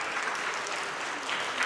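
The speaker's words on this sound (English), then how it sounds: "Let's give our 7th graders a nice round of applause." A school awards ceremony audience applauding seventh graders, with steady, even clapping from a crowd heard throughout.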